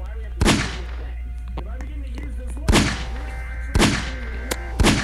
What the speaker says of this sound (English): Gonna get his attention by a revolver shot.